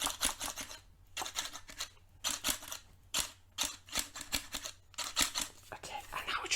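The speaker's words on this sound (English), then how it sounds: "this is how I normally use these scissors." Close, quiet scissors snip through hair in a hairstylist roleplay, coming in rhythmic bursts of rapid cuts separated by brief pauses.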